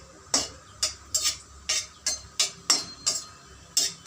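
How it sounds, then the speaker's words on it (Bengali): A spatula stirs green chilli in hot oil in a frying pan, giving about nine sharp metallic scrapes and clinks in a fairly even rhythm, close and alone without talk. "তারপর এই তেলের মধ্যে দিয়ে দেবো একটা লঙ্কাটা দিয়ে হাফ মিনিট মতো নাড়াচাড়া করে নেব।"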